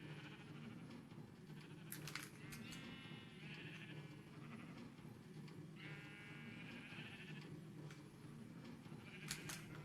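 Sheep in the Minecraft video game bleat in a few short, wavering calls spread across a quiet background, with faint clicks in between and no talking.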